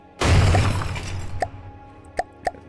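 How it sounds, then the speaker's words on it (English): A loud explosion in the video game From the Depths bursts out and rumbles with a crackling tail, followed by a few sharp, fainter blasts or impacts a second or so apart. "Explosion."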